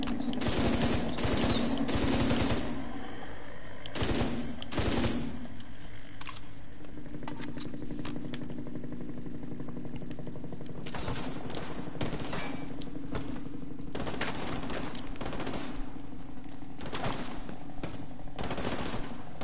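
Shotgun blasts and other gunfire in The Division 2 during a mission at the American History Museum, with loud bursts that repeat at irregular intervals and a lull partway through, then resume in quick succession.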